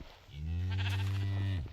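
A single drawn-out sheep bleat from a video game sheep farm, loud and close, rising quickly and holding steady for over a second before trailing off, with no talk over it.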